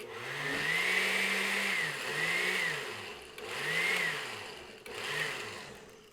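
A kitchen blender whirs through coconut impossible pie batter in several short bursts, a steady motor hum that rises, settles and restarts four times with brief pauses between pulses, loud and close with no talking.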